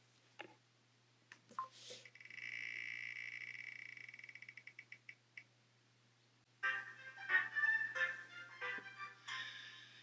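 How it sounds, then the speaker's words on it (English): Prize roulette wheel spun by hand, ticking rapidly at first, then clicking more and more slowly until it stops, followed by scattered faint clatter and movement nearby. "Spin that wheel!"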